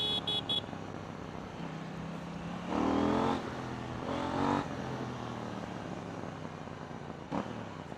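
A KTM Duke 790 motorcycle engine rises in two strong acceleration pulls, revving up and easing back between them over a steady idle-like hum, close and loud.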